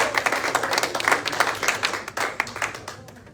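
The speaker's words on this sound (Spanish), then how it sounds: "Den un aplauso al Señor" A church congregation applauds during a Spanish-language worship service, giving a steady, dense patter of many hands clapping at moderate loudness throughout.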